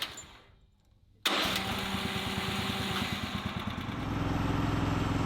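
A sawmill engine is cranked unchoked on its electric starter after a short quiet lull, turning over with a steady, rapid chugging rhythm that grows slightly louder and continues throughout, close and loud without catching.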